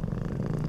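A voice imitating a cat's purr, a low, continuous rumbling purr, close and steady throughout the brief moment, with no pauses.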